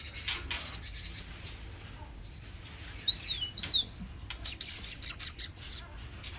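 Cage birds in an outdoor aviary setting, including a white-rumped shama, give two short rising-falling whistled chirps close together, with faint scattered calls and light clinking over a quiet background.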